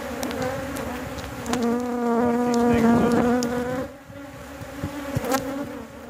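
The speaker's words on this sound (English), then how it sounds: "Bees might be getting a little more agitated. I can feel my gloves buzzing" Agitated honeybees swarm around a backyard hive, a dense close buzz that swells and wavers in pitch, with individual bees zipping past near the microphone; no speech.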